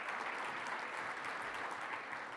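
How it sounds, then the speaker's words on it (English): A conference audience of firefighters' union delegates claps steadily, a dense, even burst of applause heard at a moderate distance, with no voices over it. "yes, you can clap for that"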